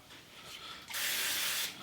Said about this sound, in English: we're going to spray the mushrooms with spray oil.